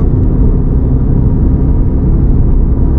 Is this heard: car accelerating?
yes